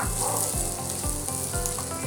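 Garlic fries in a pan with a dense, steady sizzle that fills the whole moment, with soft rhythmic low thumps from stirring underneath.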